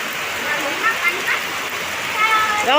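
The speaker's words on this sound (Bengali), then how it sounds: "বাবরে কি বৃষ্টি রে" Heavy rain pours down outdoors during a small picnic, a dense continuous wash of water. Voices call out briefly over it, and a louder cry rises near the end.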